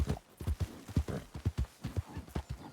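A horse's hooves clip-clop in a video game, an uneven run of close, distinct thuds at moderate volume with no talk over them.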